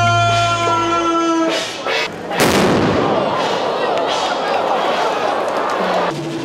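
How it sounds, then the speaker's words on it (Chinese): Ceremonial firecrackers go off at a Mazu temple procession in Taichung, a loud rapid barrage of bangs and crackles that begins after a held tone and keeps rolling without pause. "震撼的炮声一出，也宣告韩希妈祖要正式出巡。"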